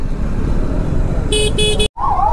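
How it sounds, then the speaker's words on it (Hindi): Dense late-night road traffic rumbles steadily and loudly, with a car horn sounding in three quick blasts near the end. A brief dropout follows, then a tonal sound. "भाई रात के 12:30 का टाइम और ये इस टाइम भी इतना ट्रैफिक मिल रहा है।"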